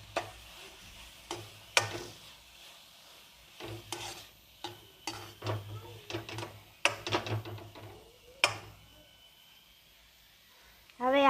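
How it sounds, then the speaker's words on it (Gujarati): Carrot halwa with sugar being stirred in a pan: soft scraping and clinking strokes of a spoon arrive in irregular bursts, quiet and close, with faint sizzling between them. "હવે આપણે થોડીક વાર માટે રંધાવા દઈશું ને હલાવતા રહેશું."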